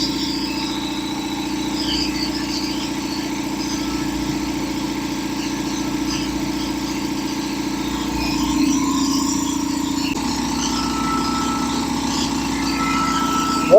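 An air compressor brought back from dead runs continuously and loud up close as it builds pressure, its engine-like drone steady throughout with a slight rise partway.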